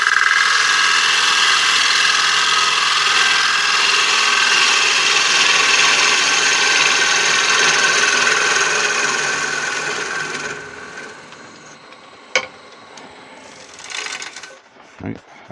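Steady high-pitched scraping hiss of a gouge taking a finishing cut across a wooden coin dish spinning on a lathe, loud and continuous, then fading out with a few sharp knocks and clicks as the cut ends.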